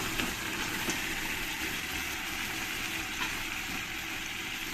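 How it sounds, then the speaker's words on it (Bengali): A steady, dense sizzle of fried chicken pieces cooking in spice paste in a pan runs throughout, a constant crackling hiss with no talking. "এই ভাজা চিকেনগুলোই দিয়ে দেবো"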